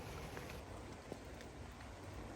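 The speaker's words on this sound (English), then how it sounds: "It's good to get some rain" Steady rain falls on a garden plot where brassica plants are being set out, a dense, even hiss of drops close by with no talking.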